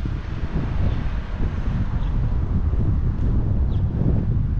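Steady outdoor wind buffets the microphone in a continuous low roar, gusting slightly stronger midway, with no voices on a walk near a school.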